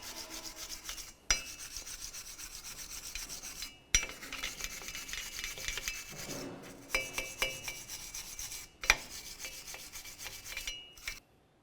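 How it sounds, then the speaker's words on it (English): A wire brush scrubs the cleaned mating surface of a front brake hub on a 2014-2018 GMC Sierra 1500, giving a close, steady metallic rasping in several long passes with brief pauses between strokes. "continue on with a wire brush along each of these areas"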